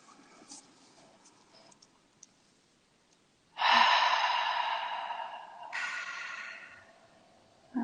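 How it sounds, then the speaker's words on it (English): Slow breathing exercise: a long audible breath from about 3.5 seconds, drawn in through the nose and then blown out through the mouth, close and fairly loud against a quiet room. "inhaling through the nose. Exhaling through the mouth"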